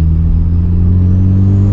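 A Honda CU2 turbo engine revs hard on a dynamometer, giving a loud, steady drone with strong low harmonics that holds close and constant throughout.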